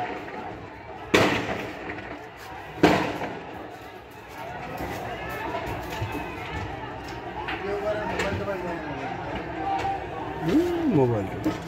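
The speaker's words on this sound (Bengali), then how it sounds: "ফাঁকা গুলি করতেছে নাকি?" Two sharp, distant bangs, like blank gunshots, crack out during a street clash between police and garment workers in Ashulia, with agitated voices and crowd chatter continuing throughout.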